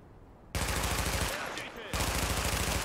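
Sustained automatic rifle fire in a tense firefight from The Division, loud, dense and rapid, with a short lull midway before the rapid firing resumes.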